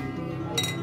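Glasses clink together in a toast over a meal, a single bright, ringing chink arriving late and close, with low room murmur beneath it.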